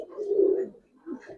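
Giribaz pigeons cooing close by: a long, low, throaty coo rolls out, pauses briefly, then a second, shorter coo follows, with no other sounds around them.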